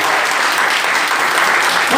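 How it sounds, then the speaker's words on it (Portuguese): A church congregation applauds in praise, steady dense clapping at full loudness throughout, close and unbroken. "Quantos podem aplaudir ao nome do Senhor?"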